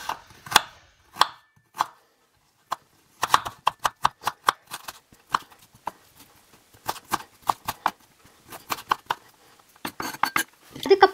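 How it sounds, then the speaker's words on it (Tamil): A knife chops fresh ginger into small pieces on a board, giving a series of sharp, close taps, some in quick bursts and others spaced apart, with no talking. "நான் சின்ன துண்டு இஞ்சிய இந்த மாதிரி குட்டி குட்டியா கட் பண்ணி எடுத்து வச்சுக்க"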